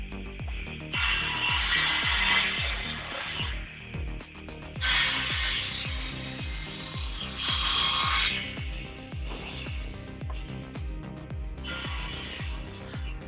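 A sawmill circular saw rips through blue gum wood in repeated loud, rasping bursts of several seconds each, separated by the lower whir of the spinning blade and a steady rhythmic mechanical clatter.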